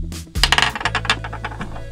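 A single conventional die rolled during a sums game played with Cuisenaire rods: a sharp clatter followed by a quick series of small rattling bounces that settle and fade.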